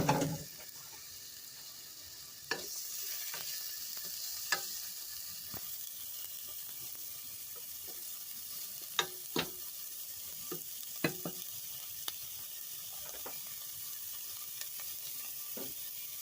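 Finely chopped onions and celery sizzle in a pot for corn chowder, with a continuous soft frying hiss broken by scattered clicks and scrapes of stirring throughout.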